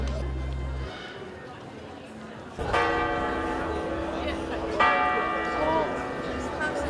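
A church bell tower rings out over the limestone-paved main street of Dubrovnik's old city, its strokes sounding twice with sustained overtones against a busy background of crowd chatter and footsteps.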